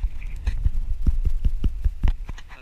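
Hard hollow knocks on the solid body of a boxfish, tapped out in an uneven run of about a dozen, close and fairly loud, with no talking.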